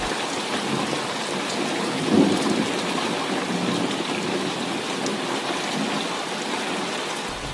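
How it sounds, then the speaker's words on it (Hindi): Heavy, steady downpour of pouring rain with a low rumble of thunder swelling briefly near the middle, a continuous loud wash with no voices. "एक दिन बहुत मूसलाधार बारिश हो रही थी।"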